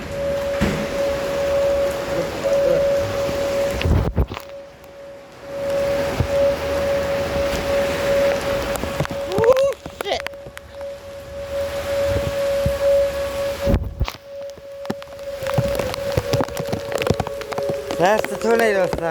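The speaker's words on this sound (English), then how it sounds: "Oh, I can feel the rain down here." Rain falls steadily during a tornado-warning storm, a dense, continuous wash of noise that stays loud throughout, with a steady siren-like tone running beneath it.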